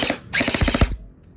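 An SRC Falcon airsoft gun fires on full auto in a quick, close burst of about half a dozen sharp snapping shots, then quiet.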